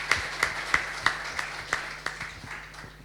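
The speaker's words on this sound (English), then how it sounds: "I think he deserves an applause" Scattered hand clapping from an audience at an angel investment panel event, about ten sharp claps at an even pace, fading slightly toward the end.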